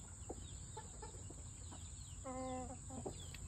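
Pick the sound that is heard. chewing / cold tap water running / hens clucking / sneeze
hens clucking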